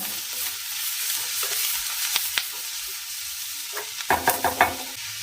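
Turmeric and black pepper powder frying and being stirred in a pan, a steady close sizzle with scattered scraping and clinking bursts toward the end.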